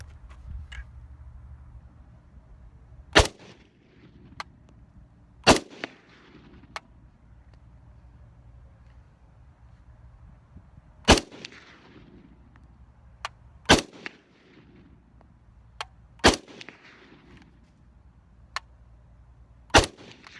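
Single shots from a PTR-91 rifle crack out loud and sharp at uneven intervals, about eight in all, each followed by a short echoing tail over a quiet outdoor background.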